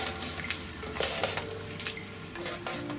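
A spoon stirring pepper rasam in a metal pot, with soft scraping and light clinks against the sides.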